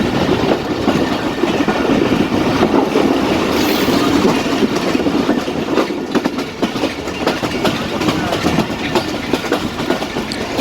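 A passenger train, the Jaffar Express in Pakistan, rumbles along the rails, loud and close, with continuous clattering wheels and a brief high squeal early on.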